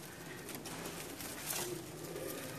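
Rampuri banka pigeons give soft, faint cooing against a quiet background, with no voices.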